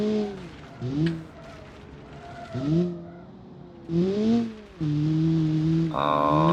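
Engine of a Kiev Motors 05 car driven in BeamNG, rising and falling in revving surges with gear changes, ending in a steadier higher drone.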